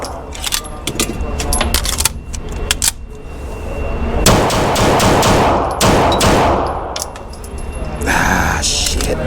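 Rapid pistol shots from a Phoenix Trinity H Duty, several sharp bursts over busy rattling handling noise, close and loud.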